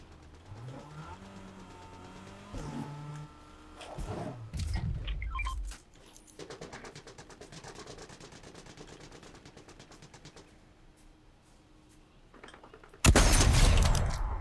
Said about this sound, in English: looks like we got some shooting around this corner